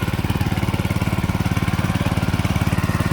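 Walk-behind mini tractor engine running while plowing a field, a loud, close, steady rapid chugging thump that pulses evenly throughout without pause.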